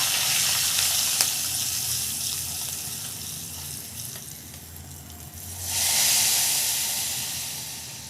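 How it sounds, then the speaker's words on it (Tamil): A hot tempering of mustard seeds, curry leaves and asafoetida hisses and sizzles steadily into a pot of ground-coconut sambar, with a brighter steam surge near the end; no talking. "அரை டீஸ்பூன் பெருங்காயத்தூள் சேர்த்து நல்லா கலந்து விட்டுட்டு இதை சாம்பார் கூட சேர்த்துடலாம்"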